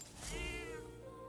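A cat in the video game Metaphor lets out a single drawn-out meow, clear and close over a soft, steady game background.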